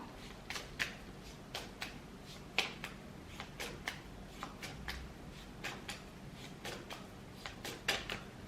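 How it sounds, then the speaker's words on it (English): Tarot cards being shuffled by hand make a series of crisp, irregular flicks and snaps, close and fairly quiet, with uneven gaps between the clicks and no talking. "sometimes you shuffle in the cards and it's difficult to tell whether the card is acting up"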